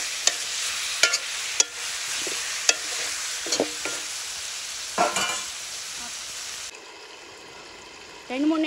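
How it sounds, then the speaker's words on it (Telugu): Chicken pieces fry in oil for a village-style curry, giving a close, dense sizzle broken by sharp utensil knocks and scraping stirs. The sizzle cuts off near the end, leaving a quieter, softer bubbling. "ఈ చికెన్ని ఆయిల్లో ఒక 2-3 నిమిషాల పాటు వేయించుకోవాలి."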